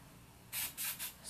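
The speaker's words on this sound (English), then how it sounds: "I just grab my hairspray" Hairspray hisses from an aerosol can onto hair in three short bursts, the first longest, each a bright airy spray close by with no talking.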